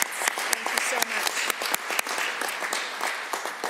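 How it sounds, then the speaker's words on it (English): Members of the Alberta Legislative Assembly applaud in the chamber, a brisk, dense burst of many hands clapping with sharp individual claps, steady and moderately loud for a few seconds with a faint voice underneath. "I would invite all of you to join me in a round of applause, and let's please give thank you to our veterinarians"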